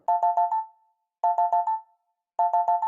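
A phone ringtone plays three times, each burst a quick run of bright electronic tones followed by a short pause.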